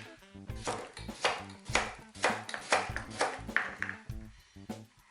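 A Victorinox Swiss Classic Santoku kitchen knife with a 17 cm fluted blade slicing cucumber on a board, a steady series of about ten crisp close chops with faint ringing after each cut.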